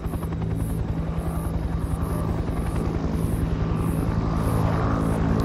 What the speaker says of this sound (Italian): Sono arrivati i Black Hawk, ragazzi.